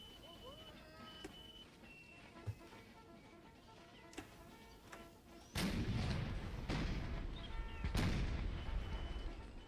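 Gunfire and artillery in an Empire: Total War American Civil War mod battle, faint scattered shots at first, then a loud sustained roar of massed firing with sharp cracks, distant booms under it.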